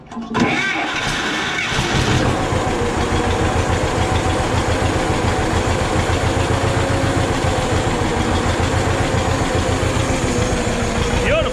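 An engine being readied for spring tillage cranks, catches within the first couple of seconds and then settles into a loud, steady, close idle.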